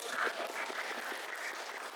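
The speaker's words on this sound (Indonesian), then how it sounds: "Ya, boleh tepuk tangan dulu," Audience clapping at an electric motorcycle expo in Indonesia, a steady, dense wash of many hands that holds at an even level for about two seconds.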